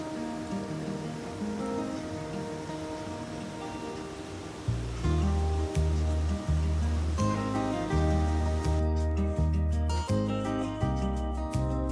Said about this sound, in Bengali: এই যে দেখো কি স্বচ্ছ ঝর্নার জল